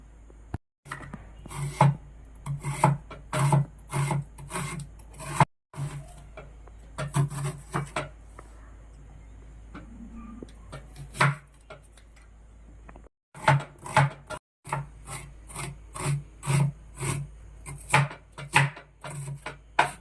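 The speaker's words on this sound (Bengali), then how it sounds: "পেঁয়াজটা কুচিয়ে নেব।" A knife chops onion on a board in quick rhythmic bursts of sharp taps, pausing briefly between runs, close and fairly quiet.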